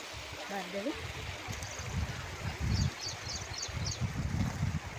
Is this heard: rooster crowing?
no